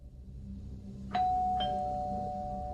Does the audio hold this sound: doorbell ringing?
yes